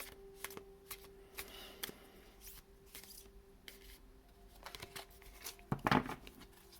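Message cards being picked from a box and handled, producing soft scattered shuffling and flicking sounds with a louder crisp rustle near the end, quiet and close with no talking.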